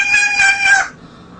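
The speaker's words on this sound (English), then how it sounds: "Riley is an Eclectus parrot" An Eclectus parrot gives a loud, harmonic, crowing-like call lasting under a second, then falls quiet.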